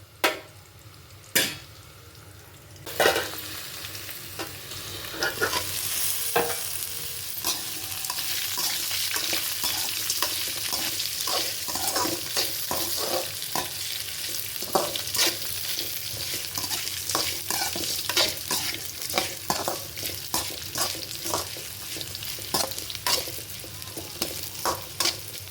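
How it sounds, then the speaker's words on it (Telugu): Bitter gourd pieces fry in a pan with a steady sizzle and the scrape of stirring, broken by a few sharp clinks of a utensil against the pan early on, with no voices. "కాకరకాయ కొద్దిగా ఫ్రై అవుతుంది."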